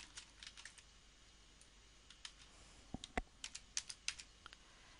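Keys clatter on a computer keyboard while a .com.au domain name is typed into a search box, faint and close with irregular taps building into a quicker run near the end.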